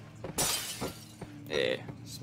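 Glass or a breakable object shatters in the horror video game Amnesia: The Dark Descent, giving a sharp bright crash followed by a few smaller clinks and a later rattling burst, with speech mixed in around it.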